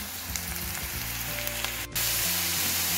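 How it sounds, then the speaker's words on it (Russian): Mushrooms and onion frying together in a pan give a steady, loud sizzle throughout, with a brief dropout near the middle before the hiss resumes at full strength. "А теперь обжариваем вместе с луком грибы."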